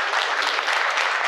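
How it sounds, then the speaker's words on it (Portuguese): An audience at a political event claps for a PV party candidate called up to the stage, a steady, dense wash of applause holding evenly throughout with no break. "Eu sugiro uma salva de palmas aí pela"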